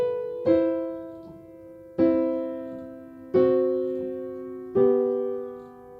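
Piano playing a slow phrase of The Star Spangled Banner, four separate sustained chords or notes struck about a second and a half apart, each ringing and fading before the next.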